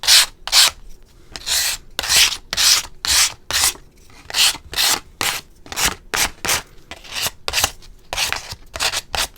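Hand sanding micarta knife scales with 100-150 grit sandpaper: a series of brisk, close scratchy rasping strokes in an uneven back-and-forth rhythm, loud and alone with short pauses between passes.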